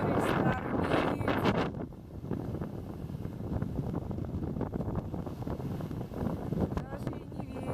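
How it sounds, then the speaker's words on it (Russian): Strong gusting wind at a beach by a stormy sea, roaring broadband and buffeting the microphone throughout, with a person speaking over it. "Ветер жуть."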